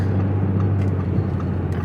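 A car engine humming steadily at a high, strained pitch while driven in the wrong gear, a continuous loud drone heard from inside the car without clear rises or drops.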